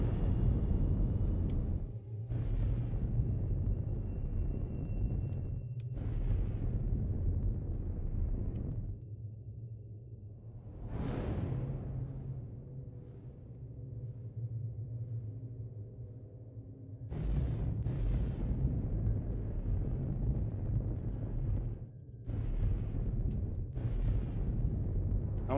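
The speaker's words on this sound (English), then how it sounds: "That's the exploding space station." Exploding space station in the space game The Long Journey Home: a series of deep, rumbling blasts and roaring bursts, with a rising whoosh midway and quieter low drone between explosions.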